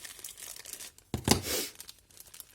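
A small cheap package torn open by hand, one short crinkly rip with a brief rustle of packaging after it, close and otherwise quiet.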